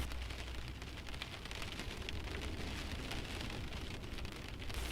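Heavy rain keeps up a steady, even hiss and patter for about five seconds, with no voices over it.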